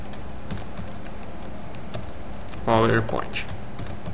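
Keystrokes on a computer keyboard tapping out a slide title in PowerPoint, a quick irregular patter of close clicks with a brief burst of speech partway through.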